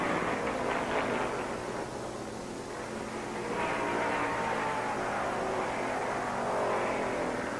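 Stock cars race at the 1969 Firecracker 400, a steady wash of roaring engines from a distant pack with swelling and fading passes, a continuous loud crowd-and-motor din with no clear talk.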